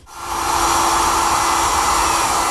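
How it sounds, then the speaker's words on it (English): A router fitted with a straight cutting bit runs freehand, clearing a hinge recess in wood for a library ladder, and spins up to a loud, steady high-pitched whine that holds evenly to the end. "freehand with a router and a straight cutting bit, I should be able to clean out most of it"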